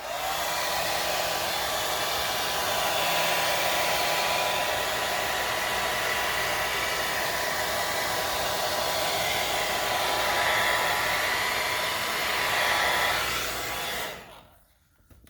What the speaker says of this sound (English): I went ahead and just got my blow dryer to assist me with it